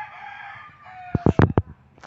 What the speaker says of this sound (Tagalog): Pinapantayan niya ang mga manok.